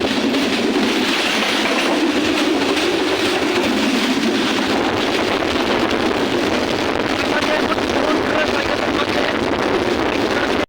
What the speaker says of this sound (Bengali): কুড়িগ্রাম এক্সপ্রেস বাংলাদেশ রেলওয়ের কৃতিত্ব পরিচালিত একটি আন্তনগর ট্রেন